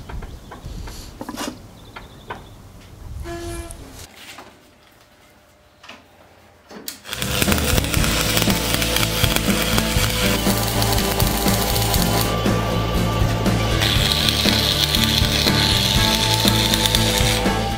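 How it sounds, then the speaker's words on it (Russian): Arc welding tacking a bevelled steel plate, a loud sustained crackling buzz that starts abruptly after some quieter workshop clinks and handling noises. "Вот сваркой прихватили."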